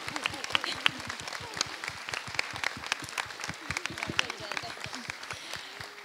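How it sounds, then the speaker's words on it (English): Scattered applause from an audience at a university dance society show, individual claps standing out sharply in an uneven rhythm, fairly close and moderately loud throughout. "let's have a round of applause for everyone."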